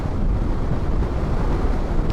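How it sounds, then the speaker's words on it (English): Strong gusty side wind from over the Andes buffets a motorcycle rider on an open Argentine plain, producing loud, continuous low roaring rumble against the microphone. "We're getting some seriously strong side winds coming from my left"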